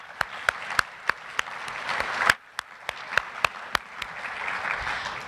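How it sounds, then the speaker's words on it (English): Audience applause at a healthcare quality conference, steady clapping from a medium-sized crowd with a few sharp close claps standing out, swelling briefly then settling to a lighter patter. "So I want you to give yourselves a little round of applause for all that you do"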